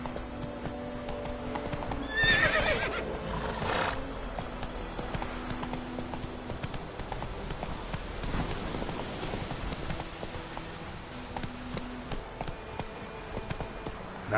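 Roach, a horse in The Witcher 3, gallops with steady clip-clopping hooves and lets out a loud whinny near the start, the hoofbeats continuing close and rhythmic throughout.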